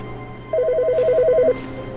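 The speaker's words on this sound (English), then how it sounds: "Do I hear a phone?" Telephone ringing in the video game The Stanley Parable 2, a single rapid trilling electronic ring burst lasting about a second over a low steady hum.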